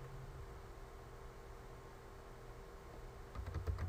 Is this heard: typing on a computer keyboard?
yes